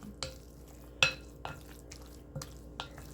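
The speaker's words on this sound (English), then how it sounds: "You mix this up really good" Salmon patty mixture being stirred and mashed with crumbled Red Lobster-style biscuits in a bowl, giving a handful of distinct soft scraping clacks of a utensil against the dish, spaced irregularly and heard up close with no talking.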